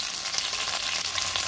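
Okra (ladies' fingers) fry in a pan, seasoned with turmeric and salt, giving a steady, bright, close sizzle throughout, with no voices.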